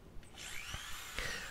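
A power drill bores holes into the wooden body of a guitar kit, with two short whining bursts of the bit biting in, close and moderately loud, separated by brief pauses.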